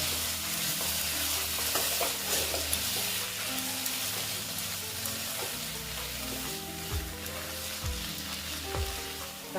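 Vegetables including bitter gourd, potato and pumpkin frying and being mixed in a pan, a loud dense sizzle throughout with a few low stirring thumps near the end.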